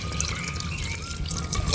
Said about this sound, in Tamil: பால் தான் கொஞ்சம் கூட விடணுண்ணே